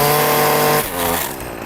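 A weed eater string trimmer cuts thin wire, a loud high whine that breaks off abruptly into a rougher, fading whir, brief and close with no voices.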